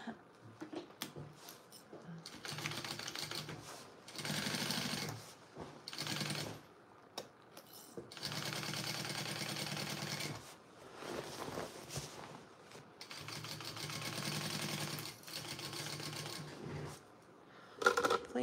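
A sewing machine stitches a tote bag in repeated bursts of fast rapid clatter a few seconds long, separated by short quiet pauses, close and moderately loud with no talking.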